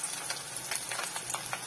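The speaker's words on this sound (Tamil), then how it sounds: "எண்ணெயில் பொரிக்கலாம்." Separated banana flower florets fry in hot oil with a steady, close crackling sizzle and a busy spattering hiss that stays even from start to finish.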